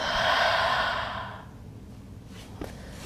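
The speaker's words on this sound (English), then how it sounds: "inhale through the nose and exhale side out the mouth" A cleansing breath, drawn in through the nose and let out through the mouth, ends in one long, close, breathy exhale that fades into quiet, followed by a faint soft tap.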